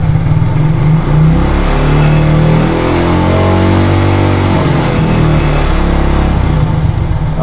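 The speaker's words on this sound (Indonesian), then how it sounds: "Oke, langsung aja kita tambahkan gasnya ya." A Honda Tiger motorcycle engine is revved up with the throttle during an electrical regulator test, a loud, close, steady mechanical roar whose pitch climbs and sags over several seconds with no talking.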